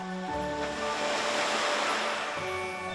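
Ocean surf along the coast of the Homi Peninsula trail, a steady continuous wash of waves close by, mixed with a soft tonal music bed underneath and no voices.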